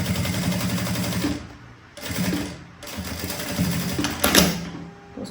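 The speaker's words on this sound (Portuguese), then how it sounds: "eu vou costurar, então, essa aba aqui" A sewing machine stitches the flap of a Trisse fabric bag in rapid, steady runs, pausing briefly twice between bursts, close and loud with no talking.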